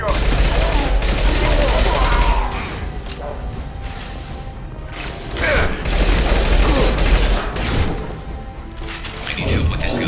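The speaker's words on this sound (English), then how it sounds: "Firing an impact shot." Heavy sci-fi gunfire from an impact shot in Mass Effect 2 (Legendary Edition), dense bursts and booms through most of the stretch, with a lull in the middle and voices talking over the combat.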